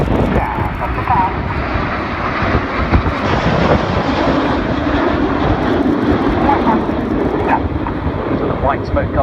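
Red Arrows jets roar through a flying display at the Cosford air show in 2016, a loud sustained engine rumble throughout with a commentator talking over it.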